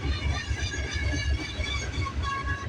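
A CN freight train with three engines and a DPU rolls past at Burlington West, Milepost 48, a loud close rumble with heavy low-end wheel noise and faint metallic squeal, continuous and without talk.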